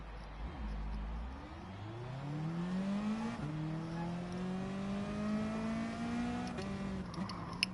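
Race car engine in GT Sport, a steady droning whine climbing gradually in pitch as it accelerates through the gears, loud and continuous from start to finish with a brief dip near the end.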